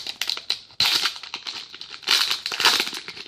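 Foil wrappers of 2017 Donruss Racing hobby card packs crinkle and tear as they are opened by hand, a busy run of sharp, close rustles with louder bursts near the middle and end.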